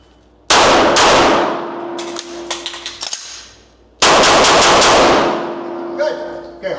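Rapid pistol shots ring off steel targets during a head-and-body shooting drill with a reload, two loud bursts of sharp cracks and metallic clangs separated by a short pause, close and loud.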